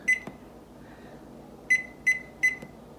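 A kitchen timer gives a short beep, then after a pause three more quick, sharp electronic beeps at a steady rhythm as it is set, close and clear over quiet room tone.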